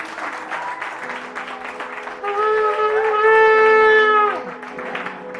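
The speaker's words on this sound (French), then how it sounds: "Applaudissez pour le Seigneur." A church congregation applauds steadily through a worship service, and a sustained tonal voice or instrument swells over the clapping midway before it eases back.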